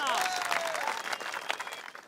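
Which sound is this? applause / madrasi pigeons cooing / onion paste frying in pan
applause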